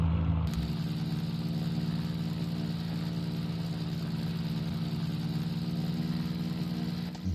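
Retro aircraft engine in the flight game Legendary Pilots revving up under throttle, a steady loud droning hum that holds evenly for several seconds after a brief quieter start.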